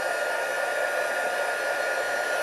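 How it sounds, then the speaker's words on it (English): A heat embossing tool blows hot air for papercraft decoupage, a steady, loud, airy whir like a hair dryer that holds constant throughout with no talk. "bring in my heat tool"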